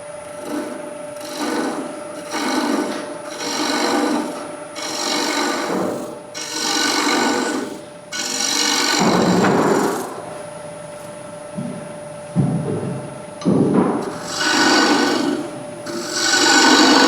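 Wood turning on a lathe, a tool cutting the spinning workpiece and throwing off shavings in repeated rasping bursts over a constant hum, with short pauses between cuts.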